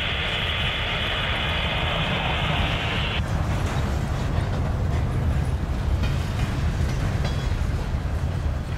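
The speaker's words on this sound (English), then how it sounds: "this train's going around the curve there" A Union Pacific coal freight train rolls around a curve at about 20 mph with a steady low rumble; a high metallic squeal rides on top for the first few seconds, then cuts off.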